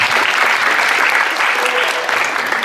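An audience at a football tournament applauding a speaker, loud continuous clapping close by, steady and even throughout.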